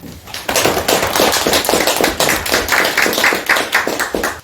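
Lecture audience applauding at a seminar, a loud, dense burst of many hands clapping close together that holds steady for a few seconds and then tapers off.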